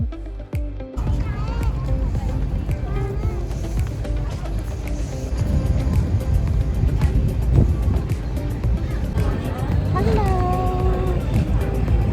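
Motorboat ride on a sunny, breezy day around Kau Sai Chau and High Island in Hong Kong; a constant engine rumble and rushing water run throughout beneath continuous talking.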